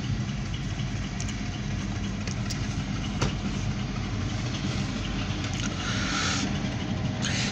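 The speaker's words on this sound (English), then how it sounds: "And now this another grain hopper train." A freight train hauling grain hopper cars rumbles steadily with a deep, continuous engine drone, heard outdoors at moderate distance.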